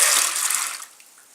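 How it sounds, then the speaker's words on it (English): Dried beans dumped into filtered water in a crock pot while making refried beans, giving a short splashing, pouring rush that fades away after about a second, alone without talk. "now I'm just going to dump my beans in"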